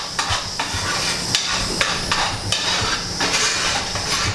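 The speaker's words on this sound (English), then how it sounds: "So again, I'm just going to keep stirring." Spoon scraping and knocking steadily in a pot of Creole gumbo on the stove, regular clanks over a continuous sizzling hiss, close and fairly loud.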